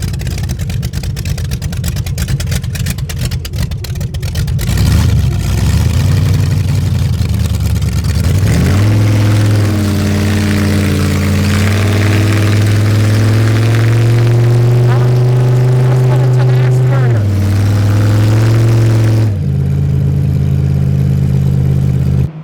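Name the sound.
1934 Studebaker Dictator custom car engine revving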